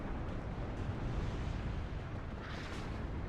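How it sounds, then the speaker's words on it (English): Artillery shells burst in a WARNO real-time strategy battle, a dense rumbling wash of overlapping explosions that rolls continuously with no clear gaps, loud and booming. "Artillery coming in the numbers."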